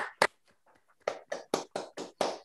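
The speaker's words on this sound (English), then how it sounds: "We can applaud for you" A small audience at a thesis defense awarded cum laude claps in a few sharp, separate bursts, sparse and fairly faint, the hand claps spaced roughly evenly over a couple of seconds.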